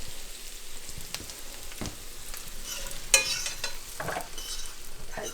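Vegetables sizzle briskly in a very hot pan, with steady frying crackle, scattered sharp pops and occasional stirring scrapes, close and moderately loud with no voices.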